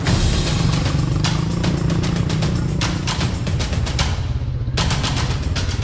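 A motorcycle rides over a rough dirt road in Sumbawa. Its engine drones steadily and close, with rattling clatter from the bumpy ride and no pause for the whole stretch.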